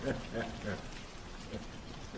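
Stage rain sound effect in a theatre play, a steady soft patter of falling rain throughout, fairly faint, with a voice speaking over it.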